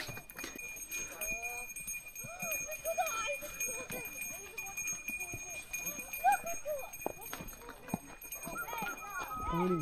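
Horse hooves clip-clopping on a mountain trail in Sonamarg, Kashmir, in faint, irregular steps under frequent voices talking nearby.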